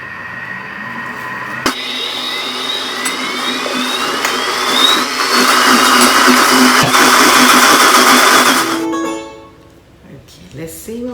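Thermomix blending butternut squash: a loud motor whine ramps up and holds a high, strained roar for several seconds, then cuts off abruptly into quiet rattling.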